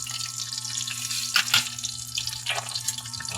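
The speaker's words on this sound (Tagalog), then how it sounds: "Pritong galunggong." Galunggong (round scad) fish fries in a pan for breakfast, giving a steady hissing sizzle with louder crackling bursts partway through and a low hum underneath.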